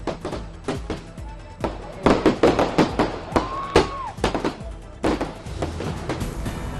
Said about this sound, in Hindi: जमकर आतिशबाजी की।